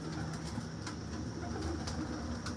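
Domestic pigeons coo softly in a breeder's loft where several breeds are kept for sale, a faint, steady murmur of low calls with a few brief sharper sounds over it.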